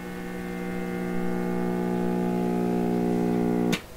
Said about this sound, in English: Start hearing a hum any moment